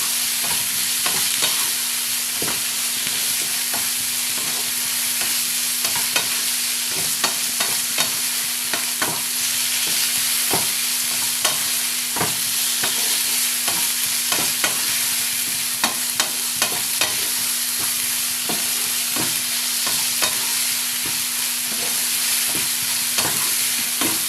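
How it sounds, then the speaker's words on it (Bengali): Chicken sautés in a pan for chicken Maggi, an even close sizzle with a low steady hum and frequent light clicks of a stirring utensil throughout. "এই চিকেনটা এবার এর সঙ্গে দিয়ে দেবো। ভালো করে কষিয়ে নিতে হবে।"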